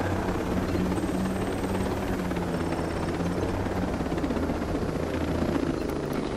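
Helicopter in the military shooter Ghost Recon Breakpoint, with a loud, continuous rotor drone and steady engine whine close by throughout.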